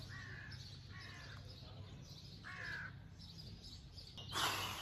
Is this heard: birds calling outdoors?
yes